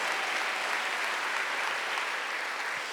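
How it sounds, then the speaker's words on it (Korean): A church congregation at a Wednesday worship service breaks into loud, sustained applause, a dense and even roar of many hands clapping that carries on without a break. "박수하세요."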